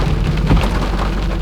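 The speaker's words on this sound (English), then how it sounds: "in the pouring rain" Heavy cold rain pours down outdoors, a loud continuous broadband hiss of drops striking surfaces close by, with no gaps.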